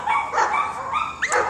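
A dog gives a few short, close barks and yips in quick succession, filling the whole brief moment.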